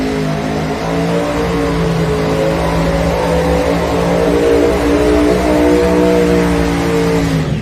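Modified-class pulling tractor at a truck and tractor pull, its engine revving loud and sustained with a steady harmonic roar that rises slightly in pitch throughout.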